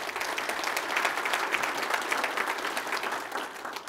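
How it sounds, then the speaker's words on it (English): Sustained audience applause fills a morning opening session at CES Government 2019 in Las Vegas, a dense, steady wash of many hands clapping at even loudness for about four seconds with no voices on top. "So please give them a round of applause."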